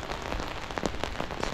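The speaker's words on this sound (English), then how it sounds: "It's kind of drizzly." Light drizzling rain pattering softly and steadily on surfaces, faint and close, with no other sounds.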